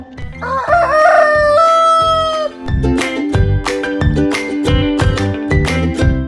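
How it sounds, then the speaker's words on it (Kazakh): A rooster crows loudly and close by in one long cock-a-doodle-doo, followed by repeated rhythmic clucking calls from the fowl. "Әтеш шақырады."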